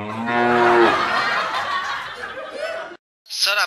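A buffalo gives a long, loud, nasal moo that sweeps down and trails off close by, followed after a brief silence by a second short, high, wavering call.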